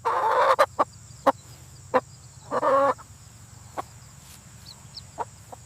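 A chicken at a zoo clucking in two short bursts, with scattered sharp taps and a faint steady whine behind, moderately close.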